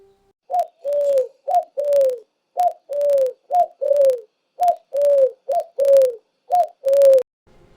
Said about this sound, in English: The dove coos sweetly.